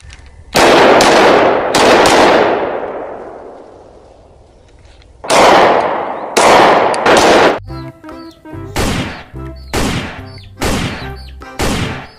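Glock pistol firing in a shooting game: a series of loud, sharp gunshots, the first few with long echoing decays, then quicker evenly spaced shots toward the end, with no voices.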